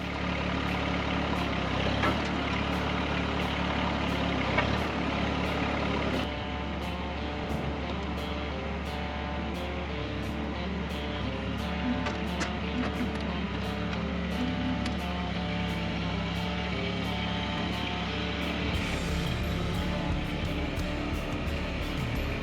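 A small tractor engine chugs steadily nearby for a long stretch, a continuous low mechanical drone with occasional clanks and no speech.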